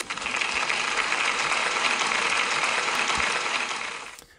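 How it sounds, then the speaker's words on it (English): Applause for a pupil at a school celebration assembly, a steady wash of clapping from many children that holds evenly and then fades out. "Can we give Archie a big round of applause, please?"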